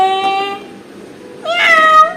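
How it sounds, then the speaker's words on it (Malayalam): Two drawn-out cat meows, close and fairly loud, separated by a short pause, with no talking. "പൂച്ച വരിക."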